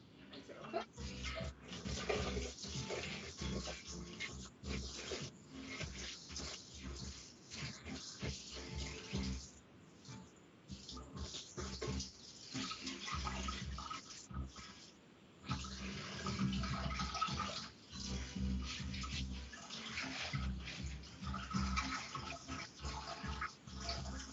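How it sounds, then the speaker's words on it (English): Food is rinsed under a running kitchen tap, water pouring steadily and splashing for most of the stretch with a couple of brief pauses, under quiet talk. "quickly rinse this, and then I'm going to put it in a bowl."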